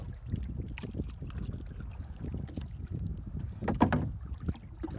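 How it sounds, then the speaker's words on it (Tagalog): A small wooden boat at a fish trap knocks and splashes faintly on the water, with soft irregular paddle-like thumps and lapping under light wind, fairly quiet and close. "Ito yung sasakyan natin, yung maliit na bangka."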